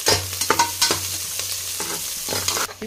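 Onions and curry leaves fry in oil inside a pressure cooker, a steady close sizzle broken by repeated scraping stirs of a spoon against the metal, with a low hum underneath and no talking.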